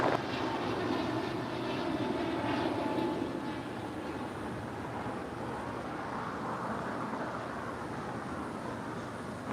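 A United Airlines Airbus A320 arriving at LAX from Austin, Texas produces a soft, steady, broad jet rumble that swells slightly early on and stays constant and fairly distant, with no voices.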